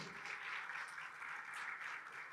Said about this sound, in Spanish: se merecen un aplauso los organizadores y también vuestros profesores